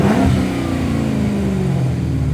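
A 2012 Dodge Charger R/T with its exhaust and resonator deleted revs hard, a loud, raspy V8 roar rising and holding close by with no talking.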